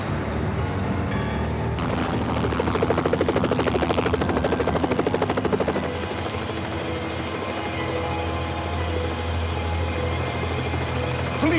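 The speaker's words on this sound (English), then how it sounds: "Police chopper, Juice." A police helicopter hovers close and loud, its steady rotor thump and engine whine holding throughout, swelling briefly at about two seconds and then easing to a constant drone.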